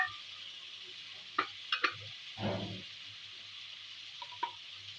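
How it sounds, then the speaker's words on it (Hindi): Chopped tomato dropped into a hot pan of chicken pulao, with a soft background sizzle and a few sharp clinks and splats as the pieces land and are stirred, fairly quiet overall. "अब इसमें जाएगा एक बड़ा कटा हुआ टमाटर, ये चला जाएगा"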